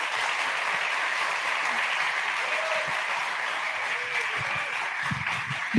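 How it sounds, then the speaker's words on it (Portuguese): A crowd at a talk on the São Paulo games market gives a round of applause. The clapping is steady and dense, holds at an even level for the whole stretch, and is heard without speech. "uma salva de palmas"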